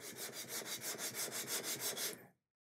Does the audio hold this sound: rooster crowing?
no